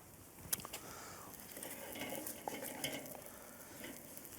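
Wild mushrooms and eggs cooking in a hot pan over a grill, a soft steady sizzle with scattered stirring and utensil clicks, fairly quiet and without talk.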